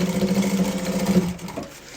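Sewing machine stitching a seam on fabric for a double box case, with a close, steady rapid whir that stops abruptly about three quarters of the way through.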